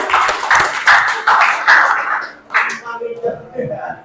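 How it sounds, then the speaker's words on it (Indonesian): A classroom of students claps on the teacher's request: a loud, dense burst of group applause lasting about two and a half seconds, then a few scattered sounds and a voice as it dies down. "Tepuk tangan dulu."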